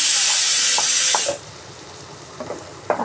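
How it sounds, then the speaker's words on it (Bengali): Spice masala of ground cumin and coriander frying in a pan, a loud steady sizzle that cuts off abruptly partway through, leaving quieter scraping stirs. "দেখো মশলাটা আমি কষিয়ে নিচ্ছি"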